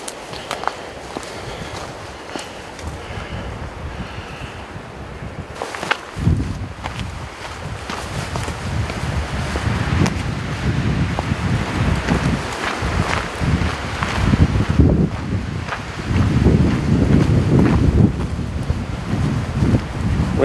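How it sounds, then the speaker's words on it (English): Strong wind buffets a mountaintop near the foundation site of Buck Spring Lodge on Mt. Pisgah, roaring and gusting unevenly against the microphone, growing louder and rougher partway through, with faint footsteps mixed in. "Windy up here, friends."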